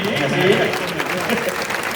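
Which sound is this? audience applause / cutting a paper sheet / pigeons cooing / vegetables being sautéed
audience applause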